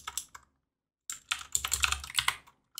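Quick bursts of key clacks on a computer keyboard while typing code, a short cluster, a pause, then a denser flurry of close, crisp keystrokes, with no speech.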